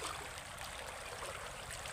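A countryside river flowing, a steady close rush and trickle of water, even and continuous with no voices.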